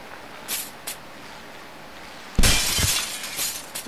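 A loud burst of shattering glass erupts after a few faint taps in an elevator in the physics game Happy Wheels, with shards crackling and scattering for over a second.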